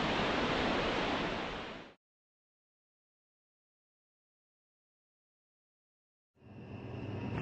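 Water showering down through a power plant cooling tower, with droplets falling through air drawn in at the open base: a steady, loud rushing roar for about two seconds, then silence, then the roar resumes.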